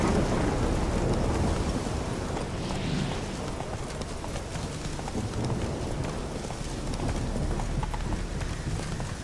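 Horse hooves clip-clopping in The Witcher 3: Wild Hunt, a steady run of hoofbeats under a dense wash of rain and stormy rumble throughout, fairly close and continuous with no talk.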